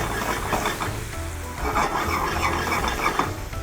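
Carrots glazed with espresso balsamic vinaigrette are tossed in a hot pan, sizzling steadily while a utensil scrapes and stirs in several bursts, close and loud with no voices.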